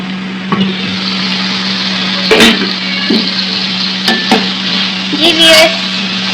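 Minced meat and softened tomatoes fry in a pan with a steady sizzle, broken by a few sharp scraping stirs and clinks of the utensil against the pan, close and loud.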